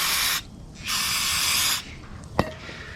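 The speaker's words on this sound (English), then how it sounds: "get your rag, get your brake cleaner, and just" Brake cleaner aerosol spraying onto a motorcycle oil filter on a Honda Grom during an oil change, two close hissing bursts of spray separated by a short pause, followed by a sharp knock.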